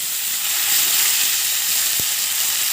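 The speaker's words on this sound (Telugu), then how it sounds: "ఇందులో ఇప్పుడు ఒక రెండు మూడు నిమిషాలు బాగా ఈ ఆయిల్లో బాగా వేగనివ్వండి" Boiled beans frying in oil with curry leaves in a pan give a loud, steady, close sizzle with a single brief knock partway through.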